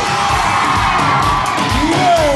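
A loud party crowd cheers and shouts continuously, with high whoops and children's yells merging into a dense roar, close and sustained.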